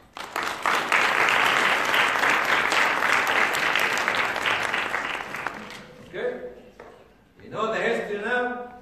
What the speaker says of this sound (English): So you give a hand of applause to the people who are the names written here.